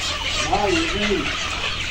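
A layer hen clucks briefly close by at a poultry seller's over a dense, noisy background hum, a short run of throaty calls.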